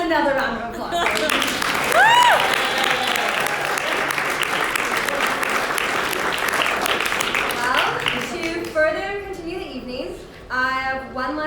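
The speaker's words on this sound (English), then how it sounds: "Another round of applause." An audience breaks into loud, sustained applause with dense clapping and a few cheers and whoops. It fades toward the end as voices begin to come through.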